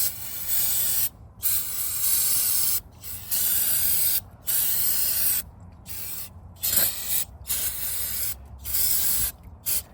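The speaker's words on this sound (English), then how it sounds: "We'll spray on the side, then we'll spray the inside." Repeated bursts of aerosol cleaner spray onto a Sprinter van's EGR valve hiss loudly, about eight sprays of varying length separated by short pauses, close to the listener.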